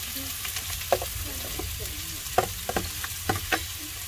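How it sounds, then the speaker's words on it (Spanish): Vegetables sautéing in a hot pan for chicken chow mein, a steady sizzle broken by scattered sharp clatters and scrapes of stirring, no speech. "Ahí se echaron las verduritas para sofreír"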